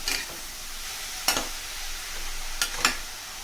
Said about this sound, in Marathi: इथे लक्षात घ्या गॅसचा फ्लेम लो करूनच आपल्याला हे बीट जो आहे तो परतून घ्यायचा आहे, नाहीतर खाली लागू शकतो